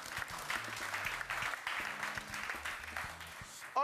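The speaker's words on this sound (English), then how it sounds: "All the men, support with the clap." Men in a comedy show audience clap together, a brief burst of steady hand applause rising and holding before fading, with some voices mixed underneath.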